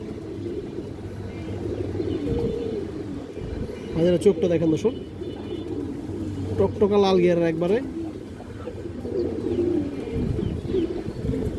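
A large female pigeon coos in low, throaty bursts with steady cooing from other birds around it, while someone talks over them throughout.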